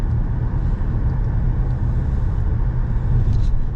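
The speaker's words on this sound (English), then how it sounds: "pull into traffic, and hit the gas for a second. So you can listen to the engine run." A 2015 Ford Explorer Police Interceptor pulls into traffic, its engine giving a steady, low rumbling drone from inside the cabin with road noise underneath, even and continuous throughout.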